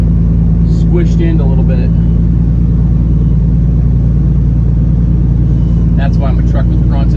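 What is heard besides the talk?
hopper bottom truck engine straining in cornfield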